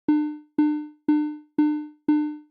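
A steady harmonic tone with its volume modulated by a slow sawtooth wave, pulsing five times, each pulse starting loud and fading away steadily before cutting off, giving a rhythmic swelling-decay pattern.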